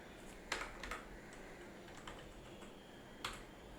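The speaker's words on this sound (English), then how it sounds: "here you need to type your passkey" Several quiet, sparse key presses on a computer keyboard while a passkey is entered, isolated clicks spaced irregularly over a faint background.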